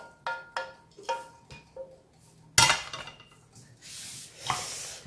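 Gnocchi and sauce for a gratin go into a baking dish with a few sharp utensil clinks and knocks against the dish, then a softer wet pouring and stirring rustle. All of it is close and fairly quiet.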